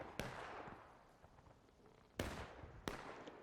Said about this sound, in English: Ooh, nice artillery shot too.